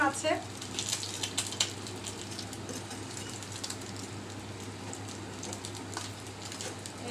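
Foli fish heads frying in a pan, giving a continuous close sizzle and crackle of hot oil with occasional faint clicks of handling, no talking.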